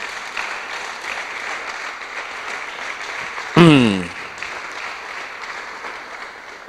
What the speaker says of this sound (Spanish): Le da un aplauso al rey